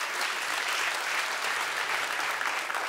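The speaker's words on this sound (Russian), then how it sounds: "аплодисменты. Михаил Марфин." A large hall audience applauds at a KVN comedy show festival in Sochi, thick and sustained clapping that stays loud and unbroken throughout.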